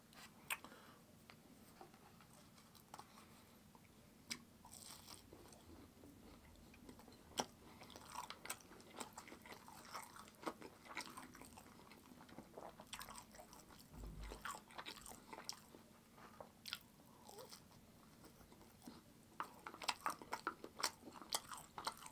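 Pogo corn dogs being bitten and chewed close to the mic in quiet ASMR style, with soft crunchy bites and moist chewing scattered irregularly over a low hum and no talking.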